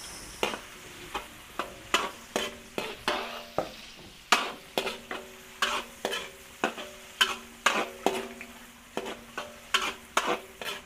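A spatula stirs chopped onions frying in a pan for Filipino home cooking. Rhythmic scraping strokes arrive roughly twice a second over a soft, steady sizzle, close and clear with no talking.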